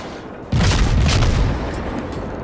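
Heavy naval guns from a warship in World of Warships boom loudly at once, a deep low rumble that swells and then rolls on as a sustained roar with no talk over it.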